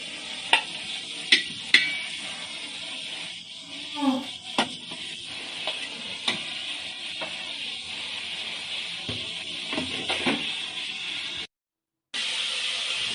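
Chopped onion fries in oil left from frying chicken for a home-style biryani, making a steady, close sizzle with intermittent clattering stirs and a short silent gap near the end.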